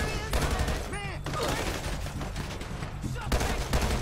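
Gunfire in a GTA 5 LSPDFR sheriff SWAT shootout, rapid shots crackling throughout amid game noise, with voices talking over the exchange.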